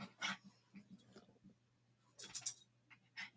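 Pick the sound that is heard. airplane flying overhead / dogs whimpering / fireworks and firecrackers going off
dogs whimpering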